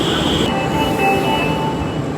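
Agra metro train at a station platform, a steady loud rumble and rolling hum throughout with a high squeal easing off early, no one talking.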